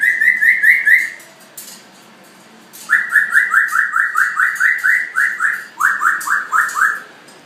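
A pet bird calls from its cage in quick runs of clear, bright chirps, one short series and then two longer ones after a pause, loud and close with no voices.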